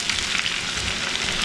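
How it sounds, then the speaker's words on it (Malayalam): Shallots, green chilies and curry leaves fry gently in hot oil, giving a steady close hiss and crackle with no voices. "ഭയങ്കരമായിട്ട് ഫ്രൈ ആവേണ്ട, സോഫ്റ്റായിട്ട് ഫ്രൈ ആക്കി എടുത്താൽ മതി."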